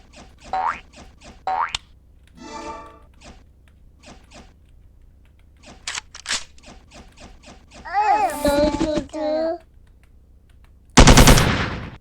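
Gunfire in the mobile shooter MilkChoco, with bursts of rapid electronic shots, springy boing-like game effects and a loud blast near the end, mixed with a player's voice talking.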